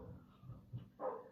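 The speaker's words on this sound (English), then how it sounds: "the dog is barking like crazy outside because there's another dog next door" A dog barks outdoors at a neighbouring dog, giving a few short, fairly faint barks in the background, with a louder burst near the end.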